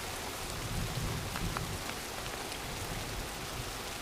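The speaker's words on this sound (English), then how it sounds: "in comes the cloud and the rain" Steady rain falls at a mountain campsite in the Mokelumne Wilderness, a dense, even hiss of drops on surfaces with no voices heard.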